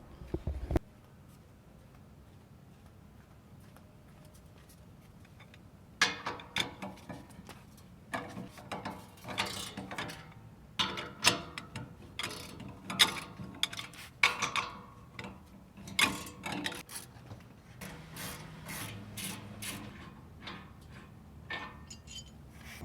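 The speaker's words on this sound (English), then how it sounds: "I was taking out these three bolts" Bolts come out of the front passenger recovery point on a 2016+ Toyota Tacoma: after a brief sharp knock and a quiet stretch, close irregular metallic ticks and clicks from hand tools run on steadily.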